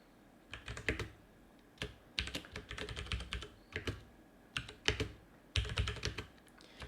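Typing code on a computer keyboard, quick clustered bursts of close, crisp key clicks separated by short pauses, quiet and alone without talk.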